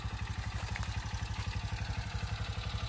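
Motorcycle engine running steadily while being ridden on a rural road in the Philippines, a continuous low chugging with rapid regular pulses, moderately loud and close, with no talking.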